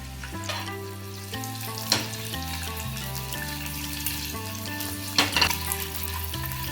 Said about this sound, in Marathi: आता ही कट केलेली अंडी ना आपल्याला यात सोडून घ्यायची